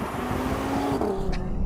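An Audi TT RS coupe engine roars close up as it accelerates hard at full throttle, the pitch climbing steadily with loud exhaust noise and no talking.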